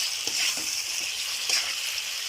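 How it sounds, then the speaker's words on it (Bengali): Pointed gourd (potol), fried earlier, sautéing with salt in a pan with a steady soft hiss of oil throughout and a few light stirring scrapes, quiet and with no talking. "এবারে ভালো করে কষিয়ে নিয়েছি পটলগুলো"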